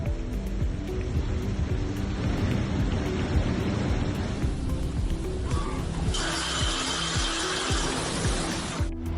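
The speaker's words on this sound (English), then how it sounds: "In Sochi, for the first time since 2012, there is a storm with a 7-point wave." Storm at Sochi on the Black Sea coast, with a seven-point wave: a steady roar of wind-driven rain and surf, rumbling lows throughout, and a brighter hiss swelling in the last few seconds.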